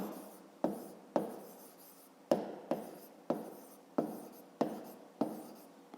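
Pen or pencil writing out a school maths word problem on paper, with short scratchy strokes repeating in quick bursts roughly every half second, close and fairly quiet, with no talk over it.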